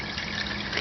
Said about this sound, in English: while the drain plug is still open and it's still draining, I'll pour a little bit of new oil in the opening to flush some of the old oil out